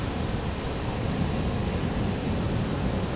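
Wind gusts across Culburra Beach as ocean waves wash in, giving a dense, steady roar with rumbling microphone buffeting and no speech.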